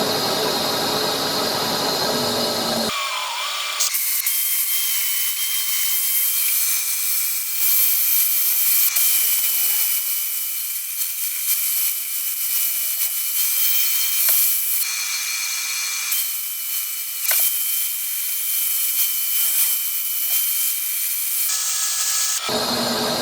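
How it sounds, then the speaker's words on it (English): Sandpaper rubs against a spinning firewood vase on a wood lathe, a sustained hissing whir with a high motor whine, broken by brief pauses and a few squeaks. "we'll do a little bit of sanding, see what happens."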